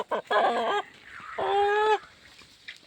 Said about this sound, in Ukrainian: Щось наші гуси не хочуть гарбузів дзьобати.